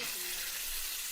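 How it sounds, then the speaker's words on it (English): Sizzling fried rice on a hot plate at a Singapore restaurant table, gravy with shrimp, chicken and scallion poured over it, giving a loud continuous hiss and crackle with no break. "It's sizzling fried rice."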